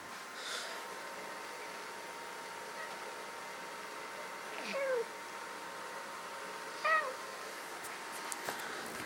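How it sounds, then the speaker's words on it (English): A house cat gives two short, faint meows a couple of seconds apart, over a steady low background hum indoors. "There's my cat."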